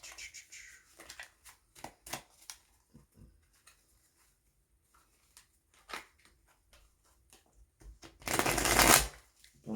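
Tarot card deck shuffled close up, scattered soft riffles and taps throughout, ending in a louder sustained riffling burst.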